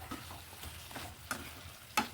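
Chopped potato, carrot and curry leaves being stirred in a pan, faint low sizzle broken by several soft scraping strokes, one sharper knock near the end, close and quiet.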